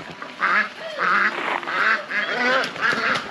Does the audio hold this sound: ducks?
yes